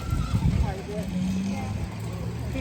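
A four-year-old gelding whinnies at a horse auction in Mt. Hope, Ohio, a few short neighs rising over a noisy background of people talking nearby.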